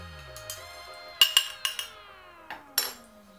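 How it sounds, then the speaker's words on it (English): Kale and sweet potato salad being stirred in a bowl, giving a handful of sharp utensil clinks and scrapes spaced unevenly over a quiet background, with faint tonal hum underneath. "Let's give it another stir."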